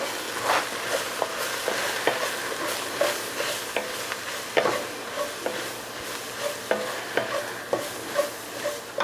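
Flour cooking and being stirred in a stew pot for oven-baked beef stew, a steady frying sizzle broken by repeated scraping strokes of a spoon against the pot, close and moderately loud.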